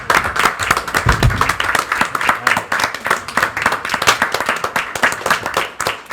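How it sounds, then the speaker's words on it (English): Close, loud clapping from a committee meeting audience, made up of distinct individual hand claps in a brisk, uneven rhythm that continues steadily throughout, with some low speech mixed in underneath. "So I think we're going to give you another round of applause."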